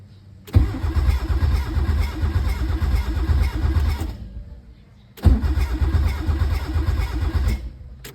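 A Nissan Sentra with a GA16 engine cranked and fired twice, each start catching into a loud, steady idle that runs several seconds before cutting off, with a short pause between the two attempts.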